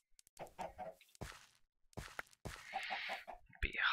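Chickens in the video game Minecraft, clucking in short bursts near the end, following a stretch of speech.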